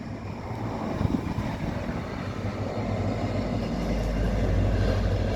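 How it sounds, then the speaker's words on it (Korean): A Janghang Line train passes on the railway tracks in front of Hwayang Station, heard as a steady low rumble that swells toward the end, with some wind buffeting and no voices. "장항선 열차가 지금도 여전히 철로를 이용해서 지나다니고 있어요"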